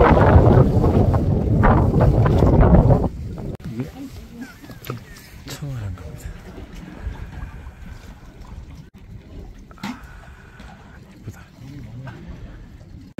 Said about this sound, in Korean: 바람이 엄청 세요.